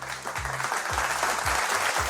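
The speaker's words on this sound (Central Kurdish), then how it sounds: "یەک چەپڵەی بەهێز بۆ هەموو هاوڕێیانم" A studio audience on a Kurdish TV show applauds strongly, a dense, steady wash of clapping that fills the whole stretch at even loudness with a low tonal hum beneath it.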